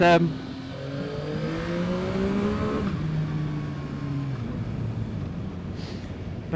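A motorbike engine idles and hums after being shifted into first gear, steady mid-pitched running with a slight rise and fall in revs, close and continuous, with an early knock and faint background noise.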